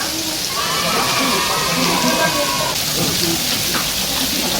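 A mountain valley stream rushes steadily in the background, with voices talking over it and pork belly sizzling underneath, beside a pension in Baenaegol, Miryang.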